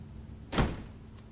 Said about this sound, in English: Er macht die Kette ab.